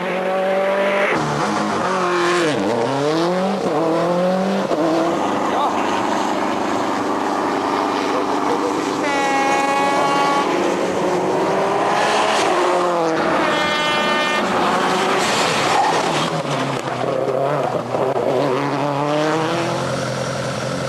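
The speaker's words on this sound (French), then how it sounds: "Derrière, on assiste à une grosse bagarre entre Renaud Vered, Mathias Vian sur la Subaru numéro 10 et Patrick Sniger sur la 206 WRC numéro 9." Subaru and Peugeot 206 WRC rally cars battling at the 2000 Ypres Rally, loud engines revving and rising in pitch as they pass close by, with a commentator talking throughout.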